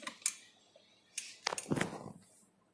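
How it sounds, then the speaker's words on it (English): Light metallic clinks and scrapes of stirring a surfactant solution in a lab beaker, a few sparse taps and a short scraping burst, faint and close with no talk. "So we can also do some little bit stirring so that it becomes a homogeneous type"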